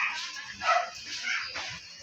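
A small dog barks and yips during play with another dog, a short burst of close, high, excited barking over about two seconds.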